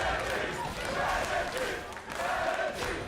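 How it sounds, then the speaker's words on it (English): A large arena crowd roars and cheers during a League of Legends LCS EU Summer 2016 match between Team Vitality and G2. The crowd noise rises and falls under excited commentators talking over it. "You can hear the crowd."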